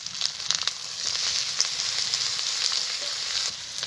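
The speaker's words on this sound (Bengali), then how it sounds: "মশলাটাকে আমি একটু কষিয়ে নেব।" A paste of garlic, ginger, cumin and dried chili with salt and turmeric fries in a pan for a chicken dish, a bright continuous sizzle with crackles and stirring scrapes, close and loud with no talk.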